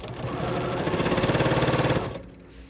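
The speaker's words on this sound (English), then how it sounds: "now it goes back under the machine next to the side of the presser foot, and I can just go ahead and start right from the edge" A sewing machine stitches a bulky embroidered crazy quilt block, its motor running in a steady rapid hum with a quick pulsing needle rhythm for about two seconds before stopping.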